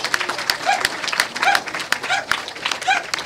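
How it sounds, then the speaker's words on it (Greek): A crowd claps steadily at a sports award ceremony, many scattered hand claps blending with a few voices in the background. "ένα πολύ μεγάλο βραβείο και ένα πολύ μεγάλο χειροκρότημα."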